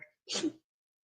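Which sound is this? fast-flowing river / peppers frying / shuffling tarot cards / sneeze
sneeze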